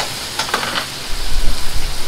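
Liver tipped into a thickened sauce in a restaurant kitchen pan hisses briefly, then a heavier rumbling scrape of stirring builds, loud and close.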